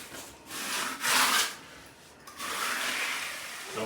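A wet tile saw cuts through tile in a shower installation, giving two sustained rough grinding passes, louder in the middle, with short gaps between them and no talking.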